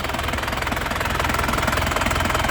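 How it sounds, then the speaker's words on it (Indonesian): A black 2006 Grand Touring Turbo with a manual gearbox idles steadily after starting, its engine giving an even, continuous rumble with a fast regular pulse, close and fairly loud, with no talking. "Sekarang kita nyalakan mesinnya, yuk ya."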